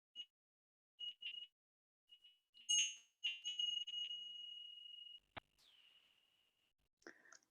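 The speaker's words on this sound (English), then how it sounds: "I'm going to ring this bell." A small meditation bell is rung twice at the opening of an evening talk, each strike a clear, sustained metallic tone ringing out and slowly fading in a quiet room.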